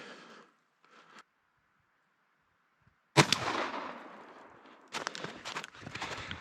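An over-under shotgun fires Black Cloud 2 shot steel from the top barrel with an improved cylinder choke: one sharp, loud outdoor blast followed by a decaying rumble, then a few scattered thuds and clatters afterward.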